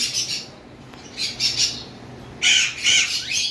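Cockatiels squawk in short harsh bursts, a few calls early and a louder cluster near the end, close by with no talking.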